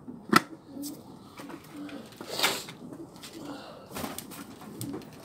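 Pigeons coo softly amid faint rustling and a few sharp knocks, quiet and a little distant, in a setting where the birds are kept for flying.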